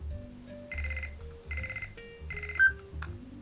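A Kamen Rider Kuuga DX Beat Chaser 2000 toy phone rings in three short electronic bursts with brief gaps, then a fainter fourth chirp, close and clear with no talk.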